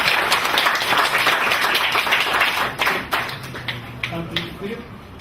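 An audience claps after a presentation at a public dialogue on conservation, with steady applause that thins into scattered claps while people talk over it.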